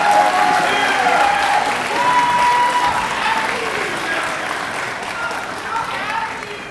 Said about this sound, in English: Let's give them a round of applause as they take their seats.